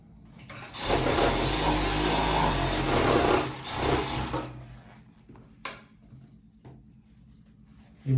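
A sewing machine stitches quilt fabric for a 3x3 m super king bedspread, running in a loud continuous whir for about two and a half seconds, then a shorter burst, followed by a few faint clicks and handling noises, with no talking.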